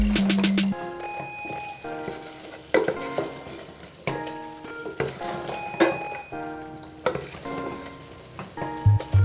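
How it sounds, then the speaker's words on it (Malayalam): Masala of ground pepper and garam masala is stirred in a frying pan while cooking rice, with repeated scraping and clinking of a spoon over a low sizzle. "നന്നായിട്ടൊന്ന് ഇളക്കി കൊടുക്കുക."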